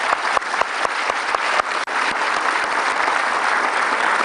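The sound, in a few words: applause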